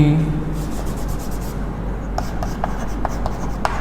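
Pen or marker writing on a board during a C programming lesson on increment operators, with steady scratchy strokes and a series of short taps in the second half, close and clear.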